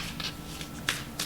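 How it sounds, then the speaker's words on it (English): Tarot cards are shuffled by hand in a few soft, quick riffling bursts, close and quiet, with no talking. "Let's do a few more shuffles to see if anything pops out."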